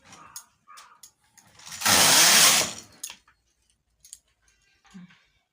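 A sweater knitting machine's carriage is pushed across the needle bed in one loud, rasping mechanical sweep lasting about a second, framed by scattered small clicks and taps of needle handling.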